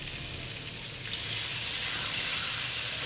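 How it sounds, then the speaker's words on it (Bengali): Water poured into a pan of fried raw mango for a sweet-sour chutney, a steady broadband gush that swells louder after the first second and runs on alone without talk. "এবার আমি জল দিয়ে দেবো"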